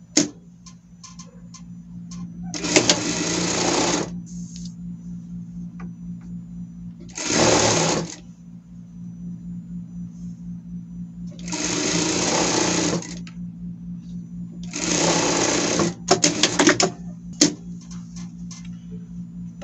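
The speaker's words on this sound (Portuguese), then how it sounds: "E vou passar uma costura aqui de fora a fora e depois virar a peça" A sewing machine stitches a seam across a pet bandana, running in four bursts of rapid rattling stitching with pauses between, over a steady low motor hum and close ticking.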